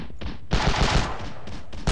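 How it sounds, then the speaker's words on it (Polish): Gunfire in the Ravenfield video game, dense rapid bursts of automatic shots with sharp reports, loud and close, filling most of the moment. "Tutaj słyszę jakieś strzały."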